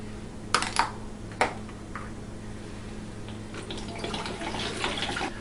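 Cold apple juice poured into a cider fermenter, with a few sharp knocks and clinks at the start and then a soft, growing splash and trickle of liquid, fairly quiet and close, with no talking.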